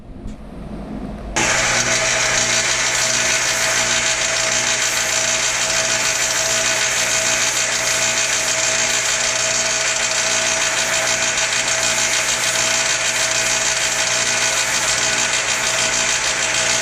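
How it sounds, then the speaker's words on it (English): Power sander grinding burrs off the ends of R2-D2 utility arm legs, starting abruptly after a quiet moment and running as a loud, steady, high-pitched whine with no speech. "I'm going to take my sander and I'm going to get rid of any burrs that are on the end"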